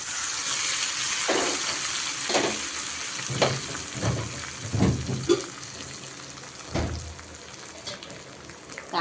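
Curry leaves crackle and sizzle in hot oil during tempering, a steady frying hiss broken by sharp pops and bursts, close and loud with no talk.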